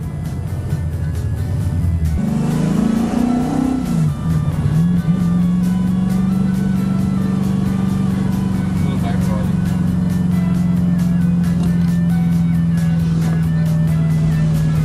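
A car drives around the Bathurst circuit toward Conrod Straight, its engine rising in revs and then settling into a loud, steady drone, with voices talking over it.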